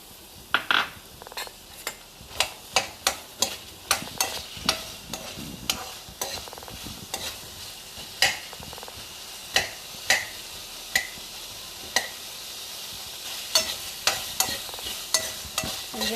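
Chopped onion with ginger garlic paste being stirred in a frying pan, a spoon scraping and clicking against the pan in a steady run of sharp knocks over a soft continuous sizzle.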